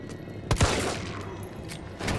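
Gunfire in Resident Evil 3 cracks out in a quick pair of sharp shots, followed by a fainter later shot over a low game ambience, with no talking.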